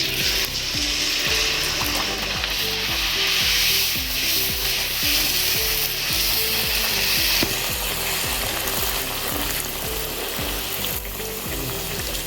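Rice flour poori deep-frying in hot oil, a steady, dense sizzle and crackle with a regular clicking rhythm running through it, with no talk.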